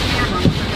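Strong hurricane winds in Florida battering a tent: a brief, steady roar of wind buffeting the microphone, with no clear pauses.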